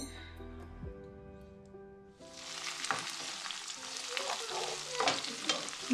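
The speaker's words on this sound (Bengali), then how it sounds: "ভুড়ি ভাজি করার জন্য আমার পেঁয়াজটা আগে ফোড়ন দিয়ে নিচ্ছি" Thick-cut onion dropped into hot oil for tripe fry, bursting into a loud, steady sizzle with scraping stirs after a few seconds of music.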